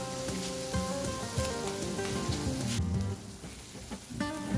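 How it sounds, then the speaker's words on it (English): Soft, steady sizzling of food frying in a pan, heard up close under background music, with occasional stirring clinks. "here I was frying my vegetables"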